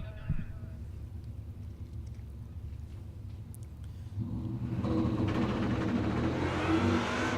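At a drag strip, a 1970 Chevelle with a blown big block and a 1998 Mustang idle with a rough, loping rumble, then the engine noise grows louder and fuller; an announcer talks over it.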